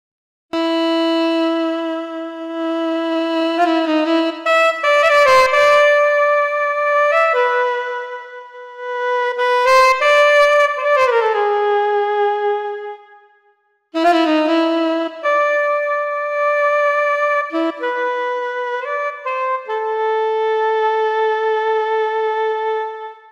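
An unaccompanied Roland Aerophone AE-10 electronic wind instrument, on its default alto saxophone sound, plays a loud, sustained melody with bending notes and a short break partway through.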